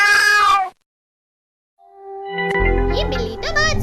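A cat meows twice, close and clear: one short meow, a pause of silence, then a longer, wavering meow.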